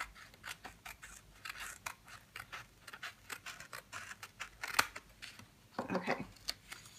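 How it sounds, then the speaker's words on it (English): Scissors snip through a paper planner page in a quick series of close, crisp cuts, with a rougher burst of cutting near the end and faint handling noise between snips. "I totally should have flipped this so I can see where I'm cutting."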